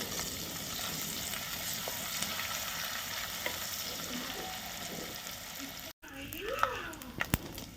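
Curry leaves sizzling in oil over a wood-fired stove while cooking Kerala beef pepper fry, a steady crackling sizzle that breaks off briefly and resumes with sharper spits and utensil knocks.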